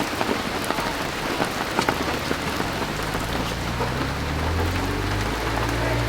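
Steady rain patters and hisses across a surface, a dense continuous wash with a low rumble underneath and no voices.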